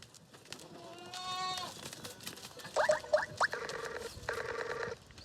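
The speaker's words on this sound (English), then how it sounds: "These goats are probably infected" Goats on a farm beside gold mine tailings bleat a few times, one drawn-out wavering call followed by shorter cries, heard moderately close over a quiet outdoor background.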